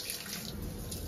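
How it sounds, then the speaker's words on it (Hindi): Water runs steadily from a tap, a brief continuous rushing hiss heard up close with no voices. "मम्मी अभी नल से पानी ले रही है।"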